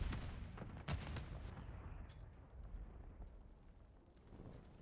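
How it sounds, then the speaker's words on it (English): Grenade explosion during a competitive video game match: booming, rumbling blasts mixed with sharp gunfire cracks over a continuous loud background of game noise. "He's going to nade Numb."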